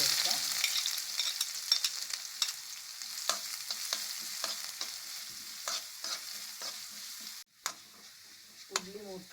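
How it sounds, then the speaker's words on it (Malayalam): Sliced onions frying in coconut oil with popped mustard seeds for a kootukari make a steady sizzle. Repeated scraping stirs run through it, followed by a brief pause and then a few more stirring knocks. "ഉള്ളി ഇട്ട് കൊടുക്കാം."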